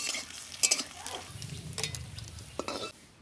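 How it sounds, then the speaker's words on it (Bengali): Potatoes frying in a pan with ginger and cumin while cooking a tengra fish dish, a soft sizzle running under stirring and clinks of a utensil against the pan, with brief scraping bursts. "এই যে দেখেন আলুটা লাল লাল ভাজা হয়ে গেছে"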